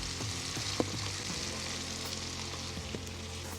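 Vegetables for bacon jam sauté in a pan over medium heat, a steady close sizzle and crackle with a few light clicks of stirring.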